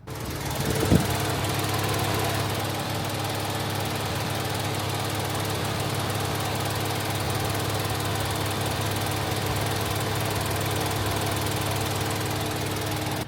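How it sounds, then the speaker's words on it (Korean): A new Kia Ray compact car's engine idles at close range, a steady, even drone with a single faint knock near the start and no voices. "엔진 소리 한번 들려드려 볼게요."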